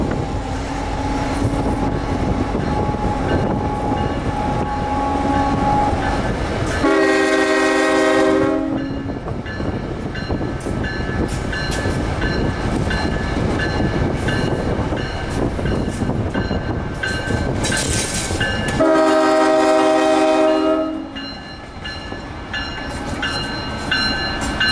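A Kansas City Southern freight train rolls past with steady loud wheel and rail noise, and two long, loud horn blasts sound several seconds apart.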